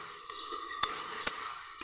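Potatoes are stirred in a frying pan over a soft background sizzle, with three brief spoon scrapes against the pan, quiet and close, and no talking.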